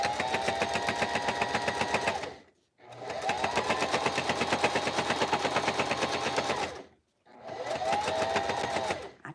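A sewing machine stitches steadily around a fabric square in three long bursts of rapid, even mechanical chatter, close and loud, separated by brief pauses.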